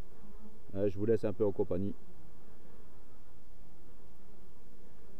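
Honeybees flying around the entrances of backyard hives, a soft continuous buzzing in the background, partly covered by someone speaking French briefly near the start, then carrying on alone.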